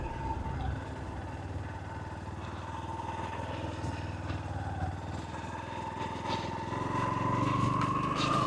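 A motorcycle labours up a steep, slippery dirt road through forest in low gear, its engine droning steadily and rising in strain toward the end, with no talk.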